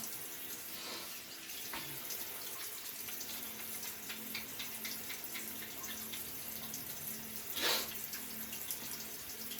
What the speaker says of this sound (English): I'm gonna leave the water running.